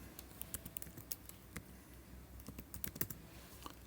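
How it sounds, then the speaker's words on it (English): Quick bursts of typing on a computer keyboard at a desk, close and fairly quiet, with irregular clicks that grow denser toward the end. "in your search region, type in the word transform"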